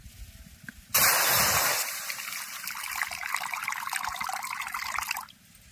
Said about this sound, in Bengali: এবার কড়ার মধ্যে জল দিয়ে দেবো